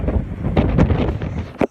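Strong wind gusts across an outdoor garden plot in November, roaring steadily up close with buffeting bursts against the microphone and a sharp gust near the end.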